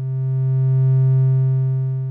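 A pure, steady sine wave tone from a Eurorack synthesizer oscillator holds at one low pitch, smooth and unwavering, swelling slightly and fading over two seconds with no other sound.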